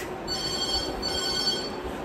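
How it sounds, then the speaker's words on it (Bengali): A phone ringing indoors in a hotel room, two bursts of a thin electronic ring tone, steady and moderately loud, with no talk over it. "ফোন এসছে।"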